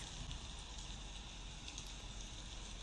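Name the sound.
rain falling on leaves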